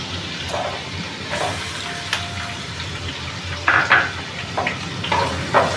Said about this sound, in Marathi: कांदा पण थोडा परतून घ्यायचा।